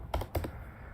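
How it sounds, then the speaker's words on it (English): Keystrokes on a computer keyboard as a terminal command is typed: a few crisp clicks close together, then a short pause and one more press, fairly near and clear with no talking. "We'll type clear on the right side of the terminal to clear those."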